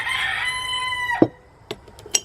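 A rooster crows loudly and close by in one long drawn-out call, followed by a few short, quieter clucks.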